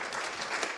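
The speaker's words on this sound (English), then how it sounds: "A round of applause for" A steady wash of applause from a fintech conference audience, dense and even, continuing through without a break.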